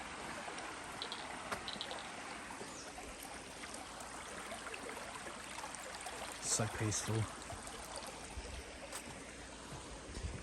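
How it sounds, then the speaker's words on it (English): Water rushes steadily at the base of a waterfall on a brook in Ellis Brook Valley, a continuous close wash of noise, with a person briefly speaking over it. "And that's the base of the waterfall."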